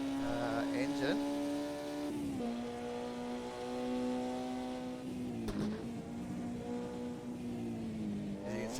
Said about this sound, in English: we don't want to miss out on the sounds of these Formula Juniors